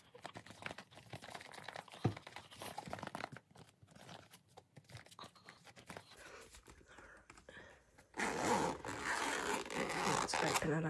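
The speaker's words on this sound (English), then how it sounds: "Let's close up the folder and give it a good shake and see if any of the cards fall out." An Ultimate Guard Zipfolio 4-pocket Xenoskin card folder holding Pokémon cards is zipped shut with rasping zipper pulls, then shaken with a louder rustling, rattling burst near the end, all close up.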